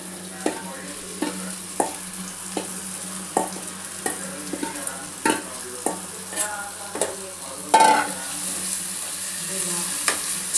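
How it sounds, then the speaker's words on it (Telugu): Marinated chicken for Warangal-style sengala curry sizzles in a hot pan while a spoon scrapes and taps through it at a regular, unhurried pace, with a steady hiss underneath and one louder clank near the end. "ఇప్పుడు మ్యాగ్నేట్ చేసిన చికెన్ వేస్తున్నాను."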